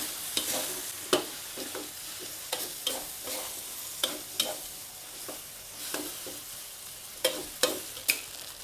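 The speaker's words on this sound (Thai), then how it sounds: "ผัดให้เข้ากัน คลุกเคล้าให้เข้ากันค่ะ" Rice vermicelli being stir-fried with shrimp, egg and blanched vegetables in a pan, spatula scrapes and clacks sounding in an irregular rhythm over a steady sizzle, close and alone.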